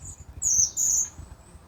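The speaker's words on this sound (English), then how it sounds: "Very noisy bird." A loud bird calls from somewhere in an organic vegetable garden, giving two shrill squawking bursts, the second a little longer than the first, over quiet outdoor background.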